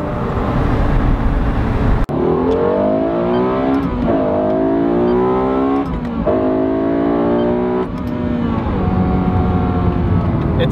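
A Lexus LFA with a single-clutch gearbox screams through repeated upshifts, each rising engine sweep cut by a brief shift pause, loud and close with a sharp click near the start.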